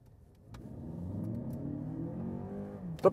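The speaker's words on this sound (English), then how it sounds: "Then acceleration from standstill." A Lexus RX 500h F Sport pulls away from a standstill, a smooth hybrid engine hum and whir building steadily for a few seconds from inside the cabin, ending with a brief sharp knock.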